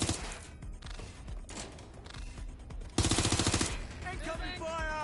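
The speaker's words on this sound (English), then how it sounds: "Incoming fire!" Rapid automatic gunfire in Watch Dogs: Legion, a dense burst of shots that surges loud mid-clip, set within a busy game soundscape of effects and faint voices.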